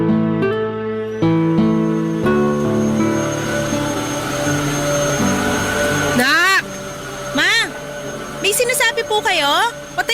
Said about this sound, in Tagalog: Pasensya na po, medyo maingay kasi tong vacuum eh.